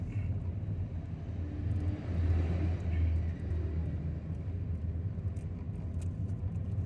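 Several cars pass along a misty road in Padang Panjang, West Sumatra, a steady low traffic rumble that swells around the second and third seconds, with no talk.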